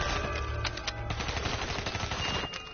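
Rapid automatic gunfire in a video game, with a quick stream of punchy shots rattling steadily for nearly three seconds at moderate loudness and no voices over it.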